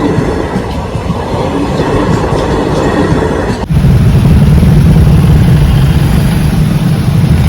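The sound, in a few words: train passing at level crossing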